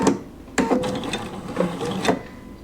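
A sewing machine stitching a bound buttonhole at stitch length 2, short bursts of rapid mechanical whirring and clatter separated by brief pauses, close and fairly loud.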